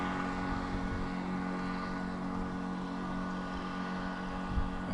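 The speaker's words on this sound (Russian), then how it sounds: "Вот это едет. Вот это моторка." A Mercury 18 horsepower outboard motor drives a small boat on a spring trip, a steady droning hum with a firm low tone that holds evenly and moderately loud without a break.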